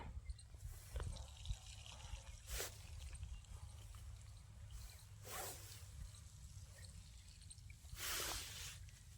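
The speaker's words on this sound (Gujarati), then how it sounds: "ફાઇનલી મિત્રો પાણી આવી ગયું છે" Irrigation water runs into a farm field from a pipeline, a faint steady trickle and gurgle with a few brief louder splashy bursts, no talk.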